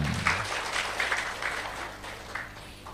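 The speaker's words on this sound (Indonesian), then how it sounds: "Tepuk tangan dulu dong." An audience applauds during an Indonesian religious study talk, steady clapping at moderate level with a few louder bursts, lasting about three seconds and thinning toward the end.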